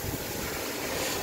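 A car engine idles with its EGR valve held open, giving a steady, even roar close to the microphone with a broad airy rush and no pauses.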